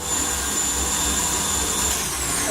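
Electric hand mixer beating buttercream icing for rainbow cupcakes, a steady loud whirring drone that runs continuously without pause and with no talking.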